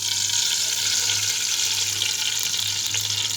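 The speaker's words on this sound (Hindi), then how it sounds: "फिर हम इसमें प्याज फ्राई करेंगे। प्याज को हम एक अच्छा गोल्डन ब्राउन होने तक फ्राई करेंगे" Onions frying in ghee in a cooking pot, a steady dense sizzle that runs loud and unbroken throughout, close up, with a faint low hum underneath and no talking.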